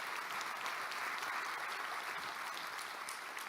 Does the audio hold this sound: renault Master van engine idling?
no